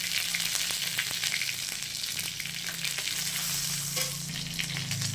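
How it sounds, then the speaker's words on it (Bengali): Dried red chillies, whole cumin and grated garlic sizzle in hot oil in a home kitchen, a steady loud crackling hiss with occasional stirring clinks, no voices. "তেলটা আমার গরম হয়ে গেছে। এখানে আমি দুটো শুকনো লঙ্কা গোটা জিরে দিয়ে দেবো"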